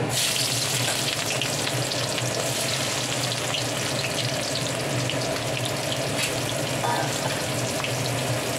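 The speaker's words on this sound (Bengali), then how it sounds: "এবার পেঁয়াজগুলো তুলে দিচ্ছি।" Onions sizzle steadily in hot oil in a pan already seasoned with bay leaf, dried red chili and cumin seeds, a dense continuous crackle and hiss heard close and alone throughout.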